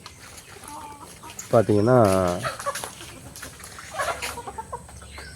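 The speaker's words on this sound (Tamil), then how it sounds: "இப்போ என்னோடய கோழி பார்த்திங்கன்னா இப்போ ஒரு வாரமாக மலையில் தான் நனைஞ்சிக்கிட்டு இருக்குது" Backyard chickens, soaked from a week of rain, give a loud harmonic cluck-squawk in the middle, with fainter clucks later, while someone talks nearby.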